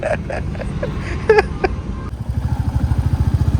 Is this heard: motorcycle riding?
yes